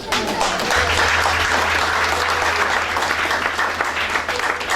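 A worship congregation breaks into loud, continuous applause for the Lord, a dense close wash of clapping over a low steady hum, with faint voices mixed into the crowd.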